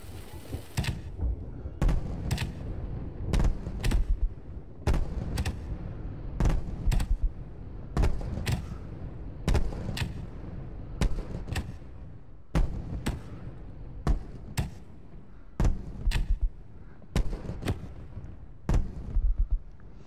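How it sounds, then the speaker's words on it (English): Rocket fireworks in a VR game go off in a fireworks show, sharp loud bangs and crackling bursts firing in irregular clusters with rumbling tails between them, and no talking. "More of a fireworks show."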